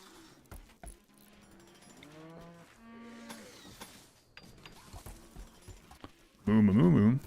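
A voice imitates a cow's moo with a loud, wavering, drawn-out tone at the end. Before it, quieter voiced sounds and mechanical clicks come and go.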